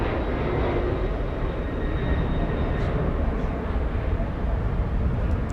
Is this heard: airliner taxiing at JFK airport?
yes